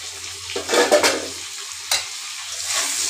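Vegetables cooked with sesame and mustard are stirred in a hot pan, giving a few close scraping strokes over a soft continuous sizzle, with short pauses between them and no voices.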